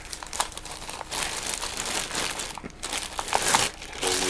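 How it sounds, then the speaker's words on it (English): A plastic bag crinkles and rustles up close as an object is pushed into it, with continuous crackling that swells and fades. "So now we can put it in the plastic bag."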